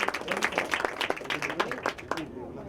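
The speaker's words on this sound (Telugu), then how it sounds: "ప్రతి ఒక్కరు కూడా చప్పట్లు కొడతారు." A church congregation at a youth and women's fellowship gathering claps together in a brisk burst of many hands that fades out, with voices talking over it.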